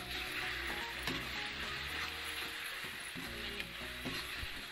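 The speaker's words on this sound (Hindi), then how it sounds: "लहसुन को अच्छे से भून लेना है" Ginger and garlic paste fries in a pan for egg biryani, giving a steady, dense sizzle with scattered light scrapes and clicks from stirring throughout.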